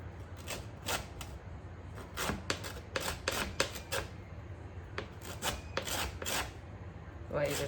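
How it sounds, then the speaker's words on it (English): Kaffir lime zest is grated by hand in short, quick rasping strokes in uneven clusters. The sound is faint and close, with a low room hum underneath. "And some kaffir lime zest."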